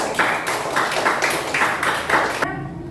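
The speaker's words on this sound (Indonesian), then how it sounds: "beri tepuk tangan untuk kelompok 2" An audience in an Indonesian classroom applauds for a student group, giving brisk, steady rhythmic clapping at close range that stops abruptly near the end.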